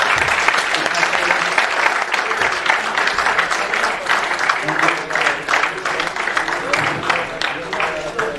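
A seated audience at a panel discussion meeting claps loudly and steadily for several seconds, a dense wash of applause with voices talking underneath.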